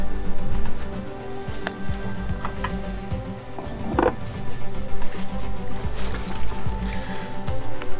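Ethanol-free gasoline pours from a 5-gallon can into a lawn mower's tank, a steady close sloshing and gurgling of liquid that runs the whole time with no talk.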